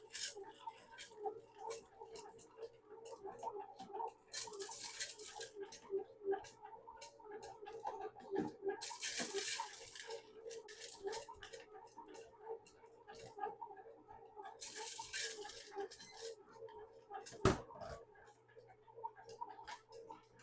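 A bread machine kneads dough as chocolate chips are added, a faint low motor hum under soft repetitive thumping and ticking, with intermittent bursts of pattering noise.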